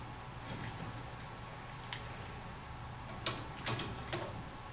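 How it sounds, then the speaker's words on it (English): A hydraulic swaging tool crimps Medlok fittings on a T, with faint mechanical whirring and several sharp, close clicks clustered near the end. "When you hear that audible click, you know that the fitting is swaged"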